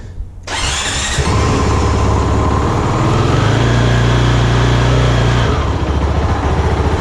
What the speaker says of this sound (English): Let's see if this thing even starts.